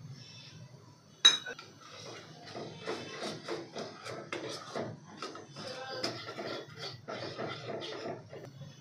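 Yogurt mixed with milk cream being stirred into masala in a pan for dum aloo, heard as a sharp clink followed by repeated spoon scrapes and taps against the metal pan, close and fairly quiet.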